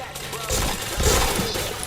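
Gunfire bursts from a shooting video game, a few sharp low-heavy shots around the middle of the clip over a busy game soundscape, with voices talking nearby.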